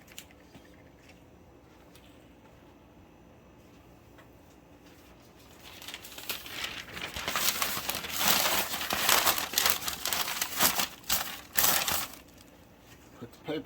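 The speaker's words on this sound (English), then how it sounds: "So let me put some paper down." Paper crumpled and laid down in a worm bin, starting with quiet handling, then several seconds of loud, close crinkling and rustling, with occasional talk in the background.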